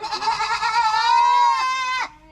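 Baby goats bleat in a single long, wavering cry from close by, loud and clear, tapering off at the end with no talk over it.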